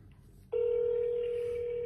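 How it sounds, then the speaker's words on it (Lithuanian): A phone dials a mobile number. After a brief quiet start comes a single steady, loud dial tone that holds to the end. "Gerai, skambinu į mobilų."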